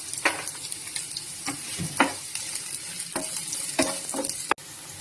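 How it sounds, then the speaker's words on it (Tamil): Long-sliced onions hit hot oil in a pan for veg noodles, giving a steady loud sizzle with repeated scraping stirs throughout. "இப்ப எண்ணெய் சூடாயிருச்சு. நம்ம வெங்காயம் சேர்த்துக்கலாம்."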